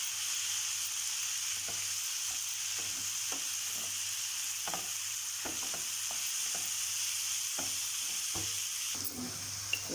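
Chopped onions and tomatoes frying in a pan, a steady hissing sizzle close up, punctuated by regular scraping taps of a spatula stirring, with no voices.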